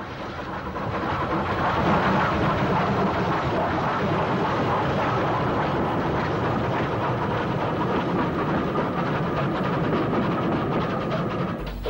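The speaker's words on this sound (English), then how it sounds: "An unidentified light Pacific hurries a Weymouth train along south of the junction." Light Pacific steam locomotive hurrying a Weymouth train south of Worthing Junction, a dense continuous roar and rumble of the passing train, fairly close and loud throughout.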